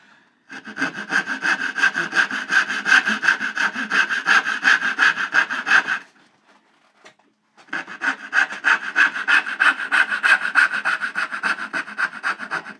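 A hand saw cuts into wood for a dado tray, steady rasping back-and-forth strokes close by and loud, running about five seconds, pausing briefly, then resuming for another stretch.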